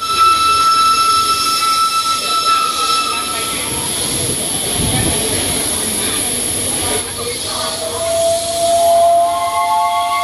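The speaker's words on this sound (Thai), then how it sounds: "เคลื่อนตัวออกจากสถานีหัวลำโพงแล้วนะฮะสำหรับขบวน 901นะฮะพร้อมกับหวีดเสียงดังเลยนะฮะ" A steam locomotive's loud, sustained whistle blares over rumbling wheels and busy station noise at Hua Lamphong station, Bangkok, its tones shifting as the train pulls away.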